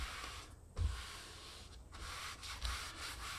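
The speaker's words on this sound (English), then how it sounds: "you're just going to rub it in." Soft, close rubbing strokes as Stealth Veil film is rubbed onto a Brown Deuville marble countertop, a steady hiss of friction broken by a few brief pauses and light bumps.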